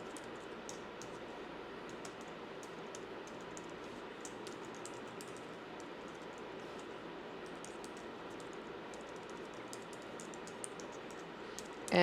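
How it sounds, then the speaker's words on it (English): Quick, irregular clicks of keys tapped on a computer keyboard, steady and close, running alone over a faint background hum with no speech. "Now you're going to type in your personal information."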